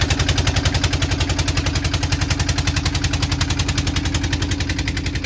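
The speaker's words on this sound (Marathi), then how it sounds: "माझा तर आवाज तुम्हाला काय येणार नाही कारण मोटर चालू आहे इकडे." A motorboat's engine running during a boat ride, chugging in a fast, even pulse close by and loud, with no talk over it.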